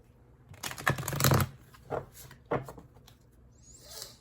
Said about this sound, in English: Okay, let's do a little shuffle.